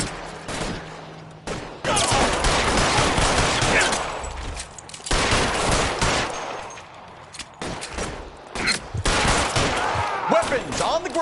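Gunfire rips at car tires during a shootout in L.A. Noire: several loud, dense bursts of rapid shots separated by short pauses, close and harsh, with brief quieter gaps between volleys.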